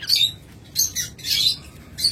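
Harsh, high bird squawks in short bursts, several calls close together, loud and near with brief gaps between them.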